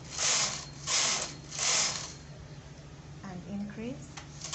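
Carriage of a domestic knitting machine knitting rows of a V-neck school sweater, sliding back and forth in three steady rasping passes, close and fairly loud, followed by lighter mechanical clicks.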